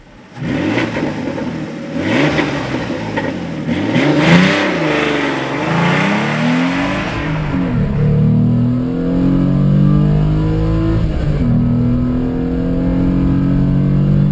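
A Renault Clio V6 phase 1 engine revs hard and accelerates up through the gears, its loud, rising roar heard close from inside the car.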